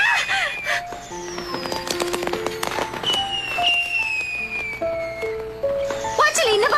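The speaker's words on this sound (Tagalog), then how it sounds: "Fireworks sa ganitong oras?" Fireworks go off at night as a dense run of crackles and sharp pops, with whistling rising trails throughout, while people talk over them.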